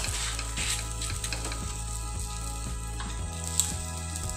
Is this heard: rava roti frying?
yes